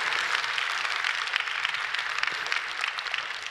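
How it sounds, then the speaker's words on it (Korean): A church congregation at a Korean Friday worship service bursts into sustained applause, a dense, even wash of many hands clapping together that fills the room without letting up, with no talking over it. "박수 한번 해주세요"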